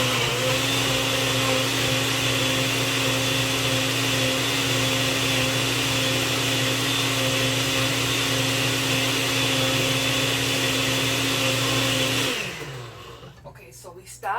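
A blender purees salsa verde with jalapeno, roaring loudly and steadily for about twelve seconds before winding down to a stop.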